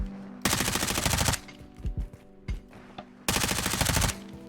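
Automatic weapon fire in Warzone 2 roars in two long, dense bursts from hip-firing during a slide, separated by a few scattered single shots and mechanical clicks, loud and close throughout.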